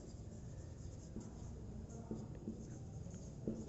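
A pen writes on paper during a class 9 mathematics lesson, a faint, steady scratching close by with a few small taps as strokes begin.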